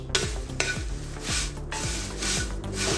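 Dry curry leaves, some green and some dried, are stirred in a hot pan while roasting for rasam powder, giving repeated scraping strokes against the metal over a soft continuous sizzle.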